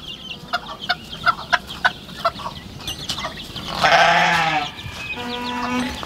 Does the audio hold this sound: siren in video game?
no